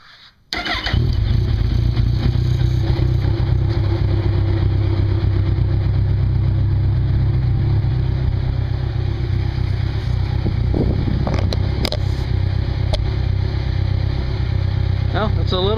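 A 2012 Kawasaki Ninja 1000 fitted with an Urban Brawler CS One exhaust starts up and settles into a loud, steady, rumbling idle close by, with a few brief sharper noises near the end.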